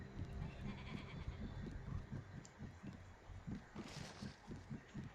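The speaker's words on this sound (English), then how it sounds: "Hello, Mr. Sheep." A sheep in the video game Tak and the Power of Juju bleats in a steady run of short, quiet repeated calls, heard alone with no talking.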